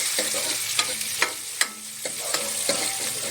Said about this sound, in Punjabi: ਦੇਖੋ ਜੀ ਕਿੰਨਾ ਵਧੀਆ ਤੜਕਾ ਲੱਗ ਗਿਆ ਕੜੀ ਨੂੰ